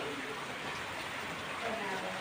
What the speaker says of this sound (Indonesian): Oh, gitu hujan ya.